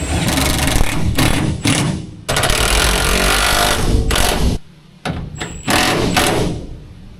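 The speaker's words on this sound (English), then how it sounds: "I need to go ahead and bolt the seat in" Seat bolts going into a 1954 civilian Jeep, loud close bursts of a power driver running several seconds at a time, broken by short pauses and a few metallic knocks.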